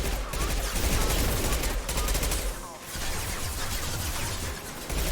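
Weapon fire in the video game Mass Effect Legendary Edition, dense, continuous rapid gunfire bursts with a short pause near the middle, loud and close throughout.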